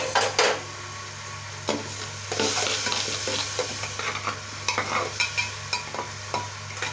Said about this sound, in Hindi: थोड़ा सा तेल में मसाला पका लो ना